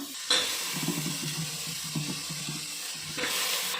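Potatoes and brinjal are stirred in a pan for a sour sambar with peas and chickpeas, making a steady scraping, shuffling sound with a soft sizzle underneath and brief louder clatters at the start and end.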